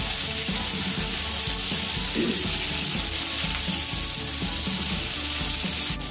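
Small tomatoes fry in hot oil in a pan, giving a steady close sizzle with occasional stirring scrapes, while a voice briefly murmurs.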